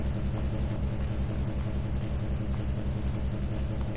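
Grain silo motors in Farming Simulator 22 run with a steady, dense mechanical rumble and low droning hum, continuous and unbroken from start to finish.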